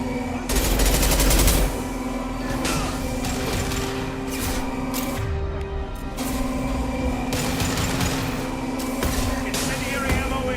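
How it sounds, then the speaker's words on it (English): Heavy weapon fire from a concussive shot in Mass Effect 2 booms through dense combat noise, with bursts of gunfire and blasts layered over a constant hum and thick game soundscape throughout. "Firing concussive shot."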